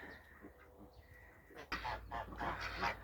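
Geese honking and cackling nearby, a few calls at first and then a livelier cluster of honks.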